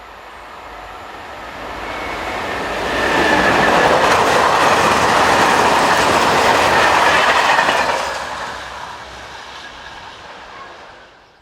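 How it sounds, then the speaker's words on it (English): Freight train headed by locomotive 27087 passing on a European line, swelling from a distance to a loud, sustained rumble with rhythmic wheel clatter and faint squeal, then fading away as the wagons recede. "Following along behind is one of the few freight services seen on this route, headed by 27087"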